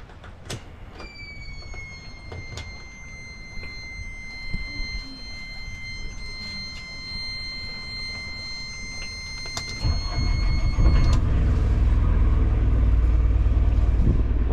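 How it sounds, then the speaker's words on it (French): A boat's engines are started to leave Mistertong: a few electronic beeps and clicks over a quiet hum, then a sudden loud, steady engine rumble that stays up through the last few seconds. "On va démarrer les moteurs pour commencer."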